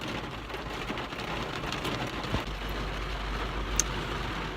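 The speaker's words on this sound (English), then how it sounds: "Let there be rain, and there was rain." Heavy rain falling steadily, a dense continuous hiss of drops on surfaces with a few sharper splashes, close and even throughout, no voices.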